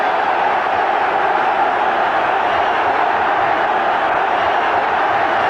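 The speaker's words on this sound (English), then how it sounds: "The applause for Viv Anderson." A dense football stadium crowd at an Arsenal versus Tottenham North London derby roars and applauds a player in a steady, loud wash of sound with no break.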